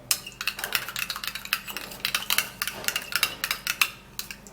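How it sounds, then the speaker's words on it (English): Homemade aloe vera lotion stirred in a bowl, a steady run of quick light clinks and scrapes of the utensil against the container, close and fairly quiet. "we have enough of the aloe vera in this, and then we're going to be giving it a stir"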